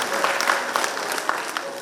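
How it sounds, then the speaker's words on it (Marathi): Sustained applause from an audience at a Marathi artists' introduction event, dense steady clapping at moderate volume with no speech over it. "विद्यासाठी एकदा जोरदार टाळ्या"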